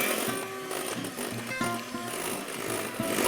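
An electric whisk beats egg whites with caster sugar in a bowl, a continuous close motor whir with a steady buzzing hum and slight changes in pitch as it works.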